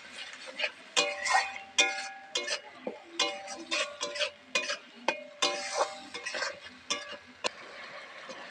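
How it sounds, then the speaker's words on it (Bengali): Spice paste being stirred and sautéed in oil in a pan for a silver carp and cauliflower curry, with a steady run of scraping, clinking spatula strokes over a soft sizzle, close and fairly loud. "দিয়ে মশলাটা কষিয়ে নেবো"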